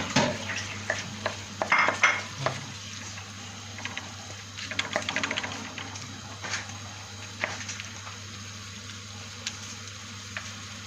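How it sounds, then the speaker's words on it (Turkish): Kokoreç frying with onions in a pan, with metallic utensil scrapes and clinks against the pan in short bursts over a steady low background hum. "yaklaşık 10 dakika kavuracağız kokoreçimiz soğanlarla birlikte kızardı"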